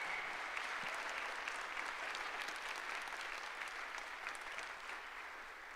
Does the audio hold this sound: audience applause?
yes